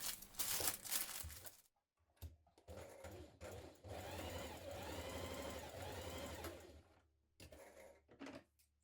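Sewing machine stay stitching the back neck edge of a blouse yoke, a steady whirring run of stitching lasting several seconds, with fabric handling rustles before and after, close and fairly quiet.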